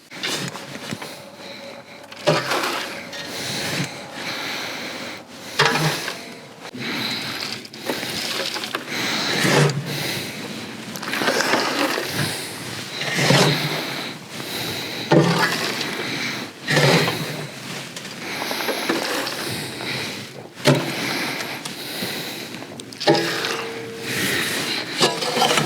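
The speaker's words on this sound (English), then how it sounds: "Now we're going to fill this planter up with the mix of potting soil and wood fines." Potting soil mixed with wood fines is poured and scooped into a planter, giving repeated rustling, gritty pours and soft thumps in uneven bursts, up close.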